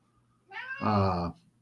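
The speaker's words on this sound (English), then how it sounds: "My cat's raising hell down here." A pet cat lets out one loud, drawn-out meow at close range, rising and then holding steady for about a second before cutting off, in an otherwise quiet room.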